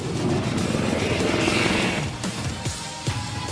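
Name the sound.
roar of the IAF LCH Prachand attack helicopter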